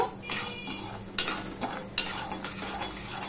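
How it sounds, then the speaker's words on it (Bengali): Mung dal being stirred in a hot kadai, with a steady frying sizzle under repeated scraping strokes of a spoon against the metal pan, close and fairly loud, with no talking. "দেখো, গরম কড়াইতে আরেকটু নেড়ে নিচ্ছি, তাহলে আর কিছুটা ভাজা হয়ে গেল।"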